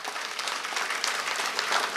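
Steady applause from an audience at a Yakshagana award ceremony fills the air, a dense, even patter of many hands clapping at moderate distance without a break.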